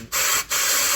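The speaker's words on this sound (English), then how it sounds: "You can hear the air coming out." Air hisses out of a freshly unclogged sunroof drain on a Volkswagen Tiguan, a steady close rush that cuts out briefly twice before resuming.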